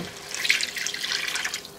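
Beef broth poured into a pot for beef bourguignon makes a continuous splashing, trickling stream of liquid, close and fairly loud.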